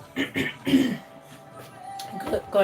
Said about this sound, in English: I just had the most painful cough ever